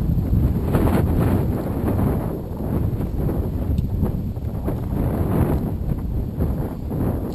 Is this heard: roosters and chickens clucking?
no